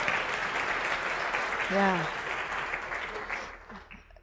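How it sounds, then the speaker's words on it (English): An audience at a security awareness training session applauds steadily while a voice speaks briefly over the clapping, and the applause fades toward the end. "Round of applause"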